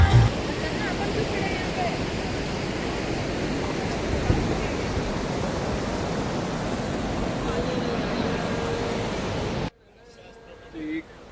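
A river in wintry Spiti Valley rushes in a constant, full-bodied roar that stays level for about ten seconds before cutting off abruptly to near silence.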